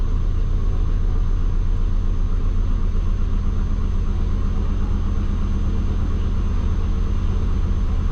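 A twin-turbo Subaru engine idles steadily and close by, a low continuous rumble whose pitch sags and then climbs slightly as the rpm drops and works back up, with no voices over it.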